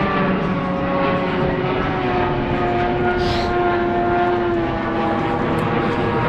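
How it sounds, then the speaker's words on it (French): A passing airplane overhead gives a steady, broad engine drone with faint tonal hum, loud and continuous throughout with no talk. "c'est un avion qui passe au-dessus"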